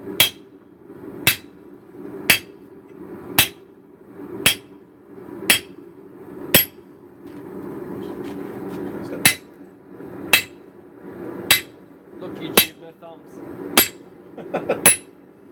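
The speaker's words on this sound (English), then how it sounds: "he stopped firing the hammer" A power hammer fires in heavy, evenly spaced blows, about twelve loud sharp strikes roughly one second apart, close and ringing, with brief talk in between.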